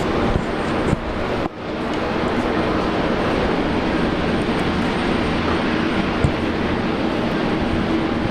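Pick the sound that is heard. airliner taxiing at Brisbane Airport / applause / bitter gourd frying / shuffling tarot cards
airliner taxiing at Brisbane Airport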